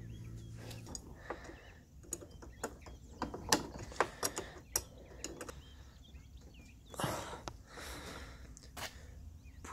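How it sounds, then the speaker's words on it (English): Someone works on the steering fork of a Ninebot Segway ES/E25E electric scooter, fitting the nuts back on. Small metallic clicks and ratchet-like ticks are scattered over a low, steady background with no talk. "put Loctite on it here. And put the nuts back."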